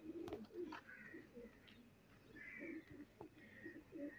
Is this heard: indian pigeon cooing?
yes